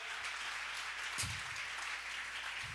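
A church congregation gives a steady offering of clapping to God during a worship service, a continuous wash of many hands that stays fairly faint and distant throughout, with no voices over it.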